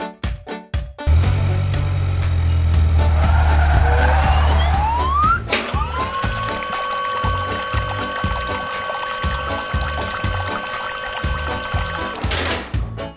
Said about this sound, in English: Red color car.